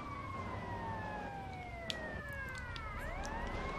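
A police car siren wails in GTA Liberty City Stories, its falling tone sweeping down and rising again, heard faint and a little distant over a low rumble of street noise.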